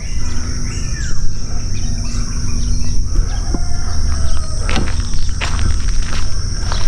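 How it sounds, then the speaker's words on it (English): Outdoors on a morning walk, a bird calls out in several short cries, fairly close and loud, over steady ambient noise and rustling. "Just trying to catch that bird that was sounding off."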